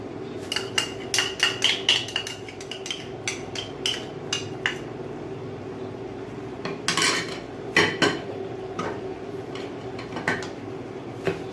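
Squid adobo stirred in a pan with oyster sauce, brisk metallic clatter of a spoon scraping and knocking against the pan in quick bursts over a soft cooking hiss.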